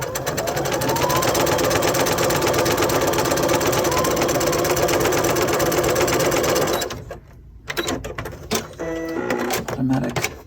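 A sewing machine stitches a quilt strip with a quarter-inch seam, a loud, fast, even mechanical whir for about seven seconds. It then stops, followed by scattered clicks and short mechanical bursts.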